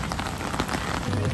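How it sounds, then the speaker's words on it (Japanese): Rain pours down outside the KSPO Dome as fans queue for a concert, a dense, steady patter of drops hitting surfaces close by, with no talking. "雨が降ってまいりました。"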